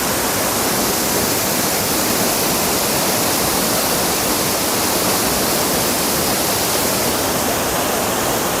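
Bhimkund waterfall in Keonjhar roars as a dense, steady broadband rush of falling water, loud and continuous with no voices.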